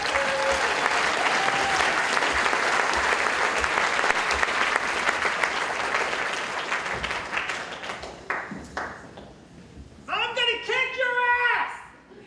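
A live storytelling audience at a West Side Stories show breaks into sustained applause for the storyteller, loud and dense for about eight seconds, then thinning into scattered claps as a voice starts speaking near the end.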